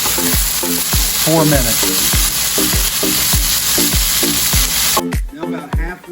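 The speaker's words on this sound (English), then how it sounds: "Now that it's sauteed, we're going to add the bitter gourd." Bitter gourd sautés with bacon in a pan, stirred with a run of regular, loud clacking spatula strokes over a constant bright sizzle that cuts off abruptly near the end, leaving quieter scraping.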